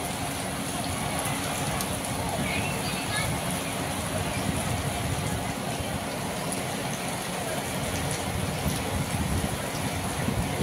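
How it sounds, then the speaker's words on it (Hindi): Steady rain pours over a village on a late-May afternoon, a dense, even hiss of drops on surfaces that carries on loud and unbroken throughout. "देखिए आज बरसात आ गई हमारे गांव में।"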